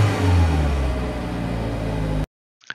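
A Peugeot 508 SW PSE plug-in hybrid (2021) accelerates with a steady mid-pitched engine hum and road roar for about two seconds, then cuts to silence with a faint brief sound after.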